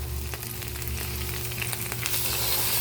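Pork sizzles and fries in a pan with sautéed garlic and onion, a steady close crackle with occasional sharper pops and soft stirring, no voices.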